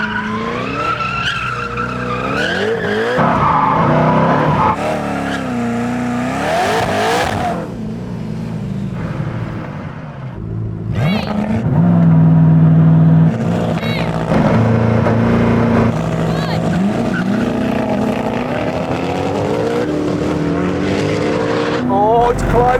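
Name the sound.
Koenigsegg Regera vs Agera RS drag race launch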